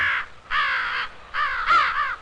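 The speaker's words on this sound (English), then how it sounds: "And the mother bird's call." A mother crow near her nest high in a tree gives four loud, harsh caws in an uneven series, close and clear against a quiet background.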